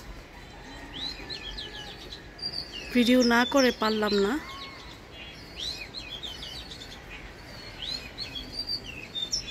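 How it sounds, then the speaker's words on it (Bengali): An oriental magpie-robin (doyel) sings clear, varied whistled phrases on and off near a rooftop garden, while a person talks briefly in the middle. "আর কি সুন্দর দোয়েল ডাকছে,"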